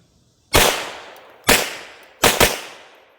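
Three sharp, loud pistol shots from a Husqvarna 1907 pocket pistol in .380 ACP, fired two-handed with slightly underloaded ammunition. The first two come about a second apart and the third follows quickly, each with a short decaying echo.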